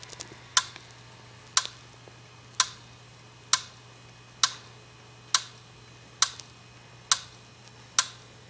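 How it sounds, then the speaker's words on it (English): Regular ticking from a failing hard drive inside a laptop just powered on, sharp clicks roughly once per second, close and fairly quiet over a steady low hum, with no talking. "that ticking is your hard drive"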